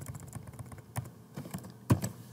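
Keys clatter on a computer keyboard as text is typed into an HTML table, with uneven light taps and a few louder strikes close by and no talking.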